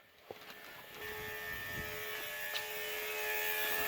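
Electric pump in a Saab whirring steadily during a bumper electrical repair, a continuous buzzing drone that starts after a small click and holds for several seconds, close and fairly loud.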